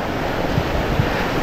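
Strong sea waves roll in as a steady, loud roar at open sea, with heavy wind buffeting the microphone and no talking.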